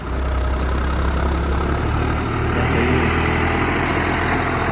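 A tractor engine idles steadily in neutral, a continuous low rumbling drone that stays loud and even throughout with no talk over it.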